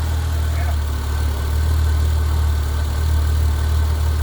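A 1946 Chevrolet pickup truck engine with electronic ignition idles with a deep, steady rumble and low throbbing vibration, close by and continuous.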